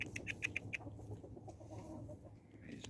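Brassback chickens on a farm give a quick run of faint, sharp clucks at the start, followed by quieter scattered clucking over a steady low background rumble.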